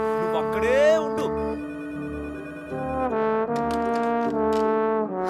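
A phone ringtone plays in a repeating melodic pattern over a movie scene, steady and fairly loud, with a voice speaking briefly over the opening rings.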